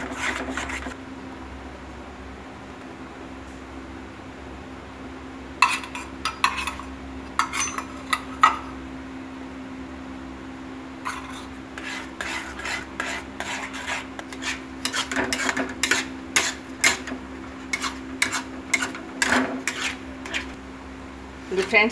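A spoon stirs cardamom powder into thick coconut pudding in a pan, giving scattered scraping clicks against the metal. The clicks come in bursts that grow busier in the second half over a steady low hum.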